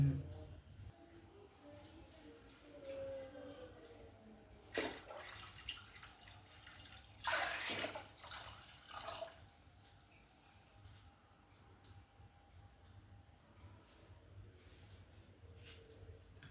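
Water poured into a container at a tabletop demonstration, heard as a few short splashing bursts over quiet room noise, with talking around them.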